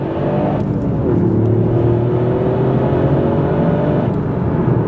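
Toyota GR Yaris all-wheel-drive hatchback working through a roundabout, its engine note steady and close with a rising tone as it pulls out of the corner, continuous road and cabin noise throughout.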